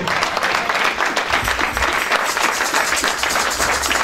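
An audience applauding and cheering, dense sustained clapping from a large crowd, loud and steady throughout.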